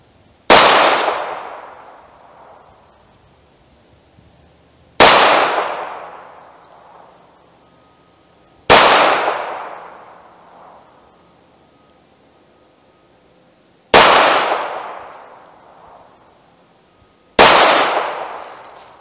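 Five sharp snub-nose revolver shots ring out several seconds apart, each with a metallic clang from a steel target 45 yards downrange and a long decaying tail, with no talking.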